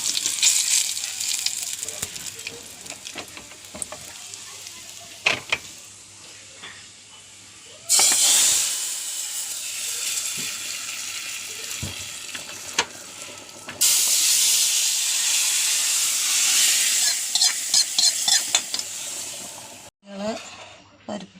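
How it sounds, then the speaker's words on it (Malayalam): Mustard seeds, dried red chilies and curry leaves hitting hot oil for a tempering, giving bursts of loud crackling sizzle and hiss that swell and drop in waves, close up, with brief gaps and clatter between. "കടുക് പൊട്ടിയപ്പോൾ വറ്റൽമുളക് ഇട്ടു, വേപ്പിൻ്റെ ഇല ഇട്ടു."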